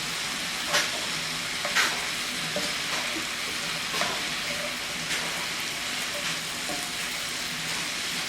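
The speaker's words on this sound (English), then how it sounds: "You want those mushrooms to soak up that flavor, that goodness. Just keep stirring." Mushrooms frying in a pan, with a loud continuous sizzle and repeated scraping stirs and light utensil knocks every second or so.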